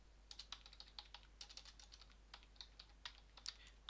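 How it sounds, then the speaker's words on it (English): Rapid typing on a computer keyboard as an IP address is entered, a quick irregular run of light, close key clicks with brief pauses, no voices. "you type in your IP"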